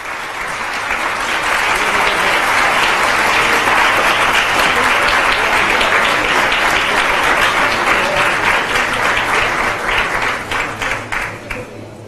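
A large audience at the CADE 2013 conference in Panama gives sustained, loud applause welcoming former Dominican Republic president Leonel Fernández, steady for about ten seconds before thinning into scattered claps at the end.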